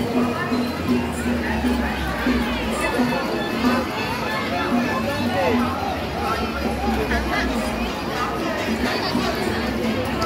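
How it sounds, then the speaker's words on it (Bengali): A dense crowd of pilgrims mills around in front of a temple during a Shravan water-offering festival, producing continuous overlapping chatter and voices close and far, with occasional shouts rising from the steady hubbub. "তো দেখো এই হচ্ছে কিন্তু ভিড়"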